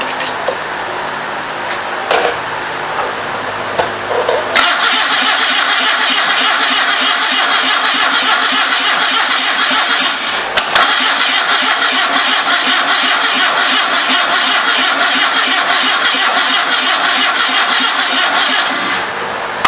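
A 650 motorcycle engine fitted in a homemade trike grinds loudly on the starter, with brief cranking bursts at first and then long sustained cranking runs with a short break between them.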